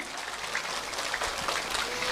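Audience at an Indonesian religious sermon breaking into applause, a faint, dense patter of many hands clapping steadily for a couple of seconds.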